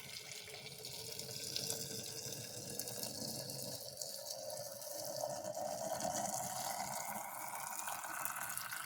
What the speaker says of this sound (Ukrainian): я залию зараз яблука кип'ятком